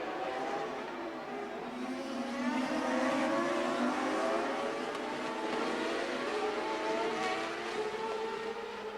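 CART Champ Car open-wheel race cars at the 2002 Montreal round scream past in a continuous high-pitched engine wail with shifting, overlapping pitches, loud and steady throughout.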